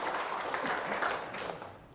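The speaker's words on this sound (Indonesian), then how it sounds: "Tepuk tangan dulu dong sebelum dijawab" Indonesian testimonial gathering audience clapping together at a host's prompt, a dense patter of hands close by that holds steady and then thins and fades out over two seconds.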